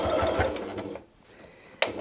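A sewing machine zigzag-stitching a butterfly appliqué on a quilt runs steadily and close for about a second, then falls quiet before a sharp clack near the end.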